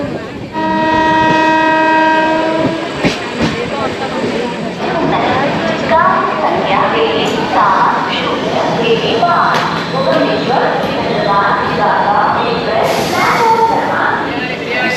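The Vishakha Express passenger train pulls into Samalkot station with a loud horn blast, then rumbling wagons and station bustle as a voice talks over it.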